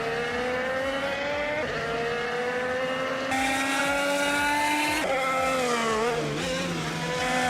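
Honda and Chevrolet race cars on the Misano track, several engines droning together in a steady, loud roar with harmonic whine that shifts pitch as cars pass and change gears.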